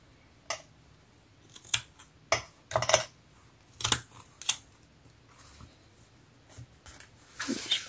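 Scissors make a series of sharp, crisp snips as they cut through jute netting from a clementine bag, irregular clicks spaced over several seconds, close and quiet with no talking.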